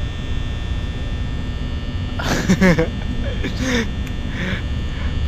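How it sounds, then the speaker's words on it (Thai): A loud, constant electric fan hum drones in Five Nights at Freddy's, steady throughout, with a brief burst of a voice over it midway. "ผมเกลียดไอ้พัดลมนี่แม่งมากแบบ มันเสียงดังหนวกหูสุดๆเลยครับ"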